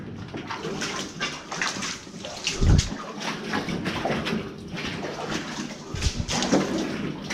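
Water sloshes and splashes steadily through an old flooded coal mine tunnel, a continuous wet churning with a few heavier low splashes as someone wades along.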